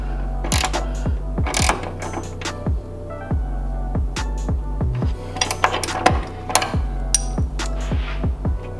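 Bolts being tightened down on a powder-coated master cylinder brace in a Mazda Miata engine bay: repeated metallic ratcheting clicks in bursts with clanks of tools, close and loud, with no talking.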